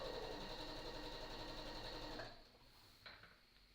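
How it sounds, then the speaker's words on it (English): A sewing machine whirs steadily at close range while stitching a tote bag, then stops after about two seconds, leaving quieter handling clicks. "So we're going to go ahead and stitch, and do a little back stitcheroonie."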